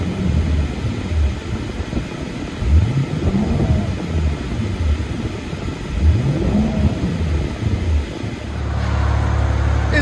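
A straight-piped BMW 335i with a 3.0L turbo engine, a loud deep exhaust rumble rising and falling through revs with a faint whistling turbo spool over it, heard close and without talk.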